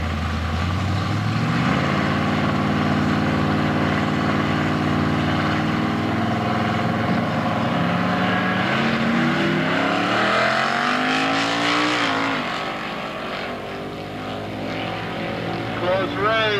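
Pro Gas class drag race championship run between a Camaro SS and a Buick Skylark, engines roaring loud at launch then sweeping up through gear changes, the pitch climbing and fading as the cars pull away, with an announcer speaking over it.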